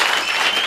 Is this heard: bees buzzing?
no